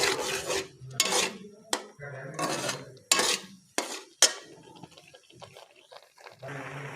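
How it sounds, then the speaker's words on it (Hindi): A spoon scrapes and stirs panjiri made from spoiled milk and sugar as it roasts in a pan, giving repeated close rasping strokes with sharp metallic clinks against the pan and short pauses between bursts. "इस कंडीशन में हमने चम्मच चलाते रहना है"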